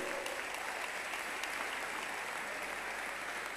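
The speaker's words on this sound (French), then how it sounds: "on peut acclamer." A large conference audience of young people claps steadily in a big hall, a dense, even wash of applause from many hands that holds at the same level throughout, with no speech over it.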